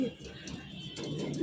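Pigeons cooing softly in a loft during their moulting season, a few low murmuring coos rising and falling at close range under a steady background hum.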